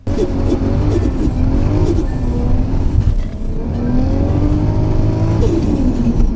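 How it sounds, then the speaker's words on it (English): A powerful car engine roars steadily at high revs, loud and close, with a thin high whine rising and holding above the rumble. "We all love the 2GZ engine with its magnificent turbo sound."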